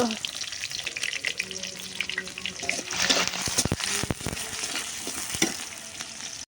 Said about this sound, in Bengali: পেঁয়াজ দিয়ে দিলাম পেঁয়াজটা গরম হতো একটু ভাজা ভাজা হতো